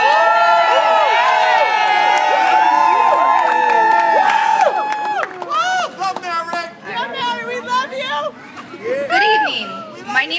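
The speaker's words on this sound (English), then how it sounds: "Give a round of applause for Mary." Audience at an evening community event for the New Elm City Dream applauds and cheers as a new member is introduced, a dense roar of clapping and shouts that thins into scattered crowd voices and chatter.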